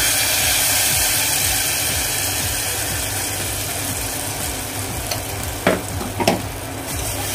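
Buttermilk and gram-flour batter being stirred in a pan over a low gas flame for kadhi, a steady soft sizzle and scraping swirl running throughout with a couple of sharper clinks near the end.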